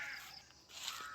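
A crow caws once or twice at a moderate distance outdoors, a brief harsh call over steady background hiss, with no talking.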